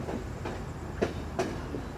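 An Intercity Express train rolls into Colombo Fort station, its carriages rumbling steadily with a few soft wheel clacks rising above the continuous low roar.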